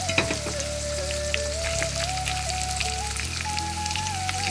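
Onion, garlic, soybeans and chilli frying in oil over low heat, a continuous close crackling sizzle with a steady tonal hum underneath, with no talking.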